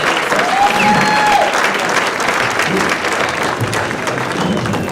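A gala audience at the Peekskill NAACP Freedom Fund Gala breaks into sustained, loud applause, a thick continuous roar of clapping hands from a large room with a few faint voices mixed in.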